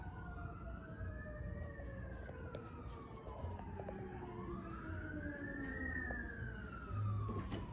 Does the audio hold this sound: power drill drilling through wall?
no